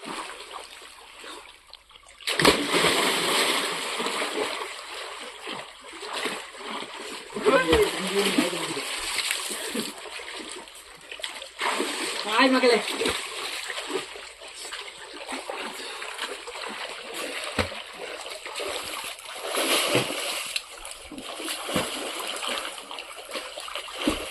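Water splashes as someone jumps into a pool or stream on a day outing. Several loud bursts of splashing and churning rise and fall over roughly twenty seconds, with people talking and calling out throughout.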